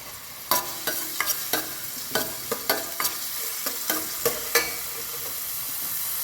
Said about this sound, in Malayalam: ഒരു സവാള അരിഞ്ഞത് ചെറുതാക്കി അരിഞ്ഞത് ആവശ്യത്തിന് വെളിച്ചെണ്ണ ഒഴിച്ചൊന്ന് വഴറ്റിയത്